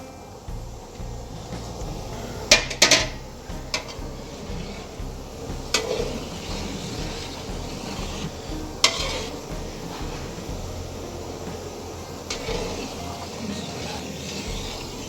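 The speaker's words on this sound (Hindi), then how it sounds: "आहिस्ता से इनको मिक्स कर लें" Boiled rice is stirred gently through a large pot of sweet mutanjan with lemon juice, a soft steady simmer underneath and a few sharp scrapes and clinks of a spoon against the metal pot.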